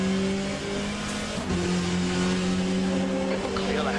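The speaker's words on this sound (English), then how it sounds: "Here come the LMP2 cars." GT race car engine droning loud and steady on track with cold tires and brakes, as LMP2 prototype cars roar past, their engine notes rising and sweeping by over the constant onboard drone.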